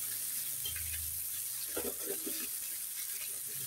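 Cabbage and spring onion frying for nasi kuning, a soft steady sizzle with faint stirring and clinks, heard alone and fairly quiet.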